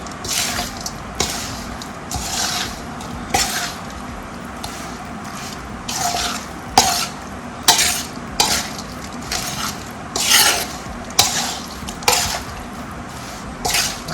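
Raita chillies are stirred by hand with lemon juice, giving wet squishing and sloshing strokes in repeated bursts over a low background, close and fairly loud, with no voices.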